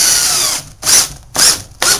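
A power drill drives a screw up from below into a central support strip of a serpentine solar collector, whining in three or four loud, close bursts separated by short pauses.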